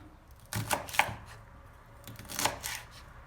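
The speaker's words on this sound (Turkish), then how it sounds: "Şimdi doğrama işlemine geçiyorum. Şu şekilde doğrayacağım." A knife chops through crisp, thin black-eyed pea pods on a board, a few sharp cuts clustered together then another pair after a pause, close and fairly quiet.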